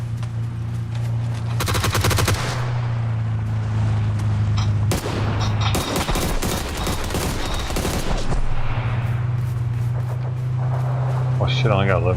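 Dense gunfire in the battle-royale video game PUBG, loud bursts of automatic rifle shots with sharp repeated cracks in two main volleys, over a steady low in-game hum, with no talk over it.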